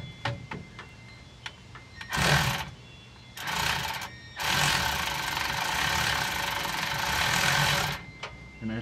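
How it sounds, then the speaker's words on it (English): A Milwaukee ratchet with an extension and a 5/16 socket loosens a big clamp while an auxiliary tank is being installed, with several close bursts of fast ratcheting clicks separated by short pauses. "I have the Milwaukee ratchet with the extension and a 5/16 on the big clamp, and I'm gonna go ahead and start loosening it"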